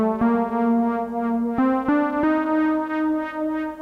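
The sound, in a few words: lead synth preset 'Born to Lead' in NanoStudio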